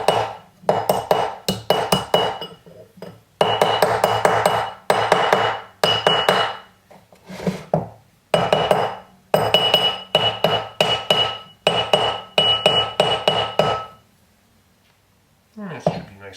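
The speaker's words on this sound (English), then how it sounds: "use a nice soft hammer. I'm going to use a rawhide mallet here." A rawhide mallet strikes a sterling silver box ring on a mandrel in quick, sharp bursts of repeated taps, loud and close, with short pauses between groups and a quieter stretch near the end.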